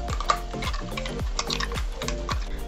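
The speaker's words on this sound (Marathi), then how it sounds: "फास्ट गॅसवर 2 ते 3 मिनिट हे वाटण आपण परतून घेऊया" Jackfruit masala paste sautéing on a high flame, stirred with rhythmic metallic scrapes and ringing taps of a spoon against the pan over a steady sizzle, close and clear, with nobody speaking.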